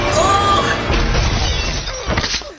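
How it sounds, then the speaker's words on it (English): Glass shattering in a TV action scene as people crash through a pane, a loud burst of breaking and crashing debris filling the moment, with a voice briefly present. "We went through glass!"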